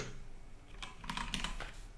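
Keys tapped on a computer keyboard while entering a value in a Windows settings dialog, a quiet burst of quick clicks that picks up in the second half.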